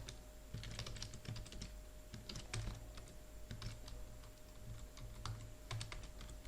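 Java code being typed on a computer keyboard, brisk irregular clicks in quick bursts with short pauses, close and fairly quiet, with no talk.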